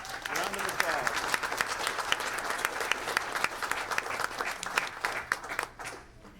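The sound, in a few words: audience applause at board meeting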